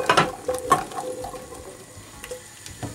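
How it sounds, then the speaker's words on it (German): Green asparagus added to a pan of hot oil and butter, with a close, steady sizzle of frying under a few clattering stirs and knocks of a utensil against the pan. "wenn das dann so ein bisschen brutzelt, dann gebe ich auch als erstes schon mal den Spargel damit zu"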